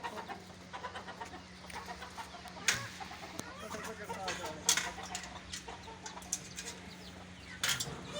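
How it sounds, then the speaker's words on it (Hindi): Ornamental fancy chickens clucking at a poultry farm, with soft repeated clucks and a few sharper calls over a steady low hum, a faint voice in the background. "अब ये फैंसी मुर्गियाँ हैं"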